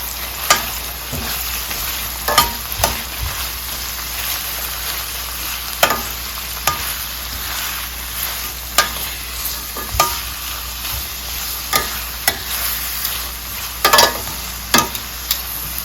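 Onions and pimento berries sizzle in hot oil left from frying fish for Jamaican escovitch, a steady close crackle broken by scattered sharp clicks and stirring scrapes, with no voices.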